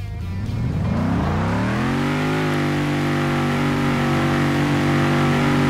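Mercedes S63 Mansory in a video game, engine revving hard with rising pitch that levels into a loud sustained high-rpm drone as the wheels spin, continuous and close with no talking.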